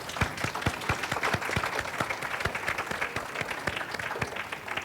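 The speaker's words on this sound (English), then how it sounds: "I'd like to ask if you will give them a round of applause for the work that they do" An audience at a journalism event claps in a steady round of applause, with individual sharp hand claps standing out over a continuous wash of clapping that holds evenly throughout.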